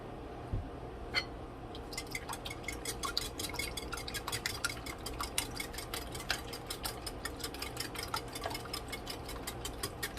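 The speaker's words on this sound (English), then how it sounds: "the butter is melting" Butter melting in a heating pan, seasoned with salt and black pepper, for a frittata: a steady close sizzle with dense rapid crackles and small spitting pops, no talk.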